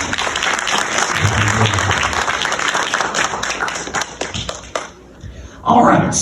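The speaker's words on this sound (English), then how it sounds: "Another round of applause for Miss Natalie" An audience at the Ms Wheelchair South Carolina pageant claps for contestant Miss Natalie, steady applause with vocal cheers that fades to near quiet before a brief voice comes in.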